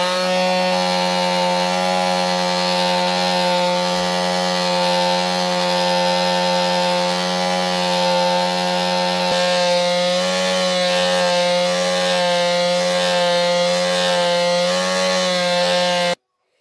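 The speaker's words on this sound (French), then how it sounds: "il y a une petite partie plate qu'on va enlever à la ponceuse." A power sander smooths a flat spot off a turned wooden Easter egg, a steady loud whine with a constant low hum running unbroken for the whole stretch and stopping abruptly at the end.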